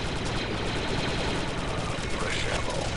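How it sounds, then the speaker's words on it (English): Blaster fire in the shooter Star Wars: Republic Commando, a steady wash of rapid shots and battle noise filling the scene, loud and continuous without clear breaks. "Watch that blaster fire."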